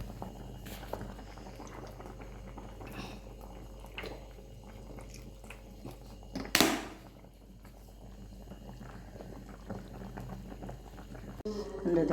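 Fish curry bubbling in a pot on the stove, a soft continuous simmer with faint popping and dripping, low and close, broken by one sharp clatter midway.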